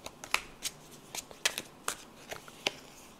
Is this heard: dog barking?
no